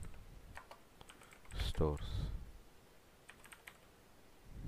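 A computer keyboard is typed on in a few faint, scattered taps heard close up in a quiet room, while a voice speaks briefly in the middle.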